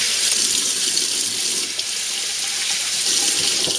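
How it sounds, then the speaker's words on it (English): Cold water from a tap running over food in a kitchen strainer, a loud steady hissing rush with no pauses. "I just take it, I pour it into my strainer over here, and then you can wash it off with a little bit of cold water."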